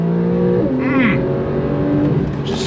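A Porsche 911 Carrera S engine surges under launch control acceleration, a loud, close, steady roar rising and shifting in pitch from inside the car, with a brief whoop of a voice over it.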